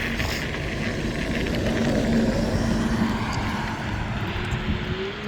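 An E-Wheels E2S Urban Max electric scooter ridden off-road, a steady rough rumble of tyres over uneven ground with continuous wind noise and a faint motor whine, loud and close throughout with no talking.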